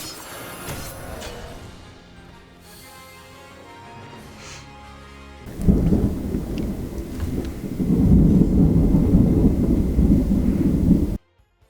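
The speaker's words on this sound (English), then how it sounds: "there is just a lot of thunder right now" Heavy thunder rolls through a storm at the start of storm season, a long low rumble that swells loudly midway and keeps growing before cutting off abruptly, with no talking.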